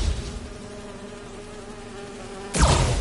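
Holographic bee wolves in Marvel's Spider-Man 2 make a steady, faint insect-like buzz that holds for several seconds before a louder rush of game noise breaks in near the end.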